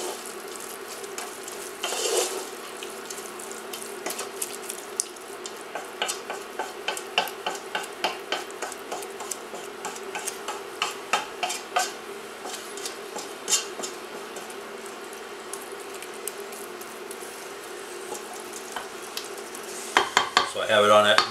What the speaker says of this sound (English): I'm going to stir in the salt.